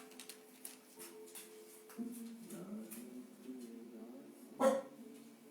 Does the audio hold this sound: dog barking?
yes